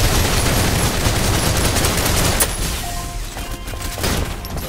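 Sustained heavy gunfire from a squad firing together in the video game Snowbreak: Containment Zone, dense and loud for the first half, then thinning into scattered shots and ringing tails.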